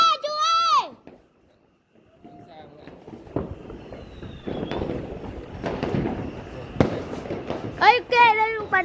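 New Year fireworks bursting outdoors, a run of sharp cracks and pops that grows busier toward the end, with children and adults talking excitedly over the noise.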